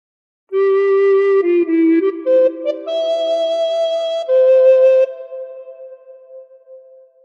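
A recorder plays the opening notes of the Battle Hymn of the Republic as a clear, breathy single line of held notes that steps up and down in pitch, then fades into a soft, trailing echo.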